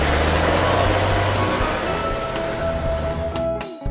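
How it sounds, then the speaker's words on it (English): A bulldozer's diesel engine rumbling steadily with a dense mechanical roar, loud and near, ending in a few clanks. "A bulldozer."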